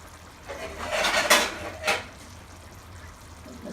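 A metal lid clanks on a cooking pot of matar pulao set over a very low flame, with a few close scraping knocks and then quiet.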